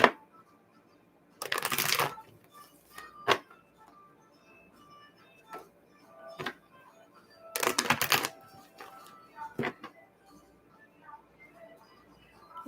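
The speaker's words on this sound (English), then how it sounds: "let me shuffle these for just a second" Two bursts of tarot card shuffling, each a riffling flurry lasting about a second, separated by soft taps and small clicks in an otherwise quiet room.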